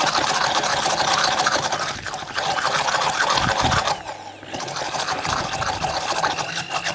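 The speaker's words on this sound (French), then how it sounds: "Et là, je vais mixer donc pour finir." A blender whirs continuously through a thick chocolate and red-fruit dessert mixture, a loud, dense grinding buzz that dips briefly midway before resuming steadily.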